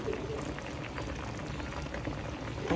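Creamy chicken curry sauce with cream boils in a pot, a close, continuous low bubbling and gurgling that holds steady throughout with no clear talking.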